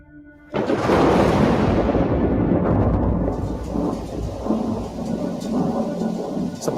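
Heavy rain pours down with rolling thunder, a loud sudden burst that settles into a dense, continuous downpour with rumbling underneath, no voices present.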